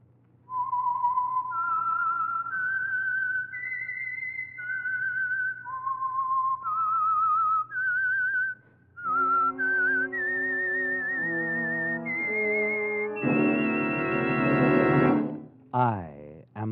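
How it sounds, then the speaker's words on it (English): A lone whistler performs the signature tune of the Signal Oil radio program, a clear melodic sequence of sustained notes that climbs and falls, later joined by orchestral accompaniment swelling to a loud finish. "the signal to listen for is this whistle that identifies the Signal Oil program"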